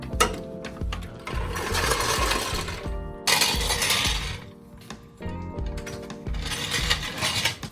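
A Toyota TE72 Corolla's 3TC Hemi engine cranks over on the starter to prime oil pressure, giving a few loud, close mechanical churning bursts separated by short pauses, with no running engine catching.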